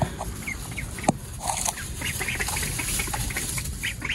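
Four-week-old ducklings in a coop peep and quack continuously, a busy cluster of small overlapping calls close by with soft rustling throughout.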